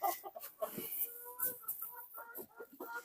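A grey backyard hen clucks in short, irregular bursts at moderate distance, with other chickens faintly around her and a quiet, busy farmyard background.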